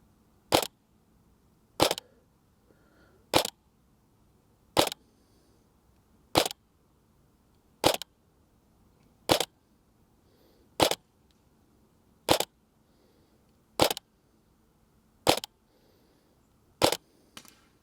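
Cyma CM.041J MP5A3 airsoft replica firing BBs outdoors at long range, twelve sharp single shots cracking at a slow, even pace about one and a half seconds apart, loud and close against quiet surroundings.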